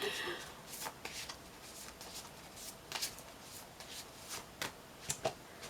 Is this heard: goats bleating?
no